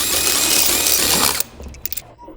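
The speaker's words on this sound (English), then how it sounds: "Remove the lug nuts using a 19mm socket with the electric impact wrench" An electric impact wrench with a 19mm socket spins off lug nuts on a 2017-2021 Honda Civic, a loud, close, continuous rattling buzz for over a second that stops abruptly, followed by a few faint clicks.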